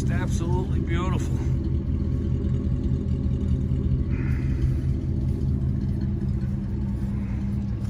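A 1957 Chevrolet Bel Air convertible engine runs at a steady idle nearby, a continuous low rumble under a voice talking throughout.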